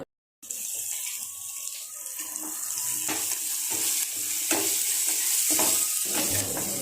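Onions tempered with a pinch of turmeric in a frying pan sizzle softly while being stirred for poha upma, with repeated scraping stirs over a steady frying hiss and no speech.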